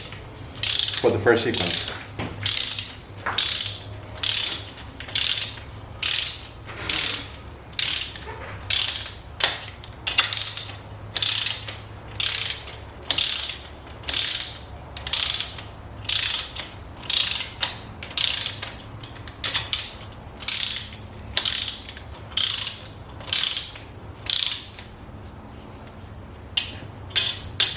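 Repeated ratcheting strokes of a wrench during a 2013 Genesis Coupe 2.0T engine rebuild, about thirty evenly spaced close bursts of clicking with short pauses between, and a brief spoken phrase early on.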